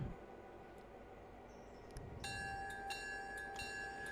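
A locomotive getting underway in the Railroader game, a low rumbling roll with a steady tonal hum that grows slightly louder, plus faint metallic clinks and squeals.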